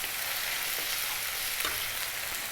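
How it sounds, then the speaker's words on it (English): Garlic ginger paste, an even mix of garlic and ginger, frying in a pan with a steady dense hiss and sizzle, close and continuous, with a faint scrape midway and no talk. "Next up, we're going to add the 1 tablespoon of garlic ginger paste, which is a 50-50 mix of garlic and ginger"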